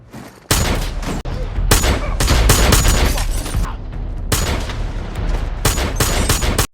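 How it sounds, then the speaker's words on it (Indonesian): Loud film gunfire erupts as robbers are shot down, with dense bursts of rapid shots and booming blasts separated by brief pauses, close and dominant throughout. "dengan santainya, Edge menembak semua perampok dengan akurat"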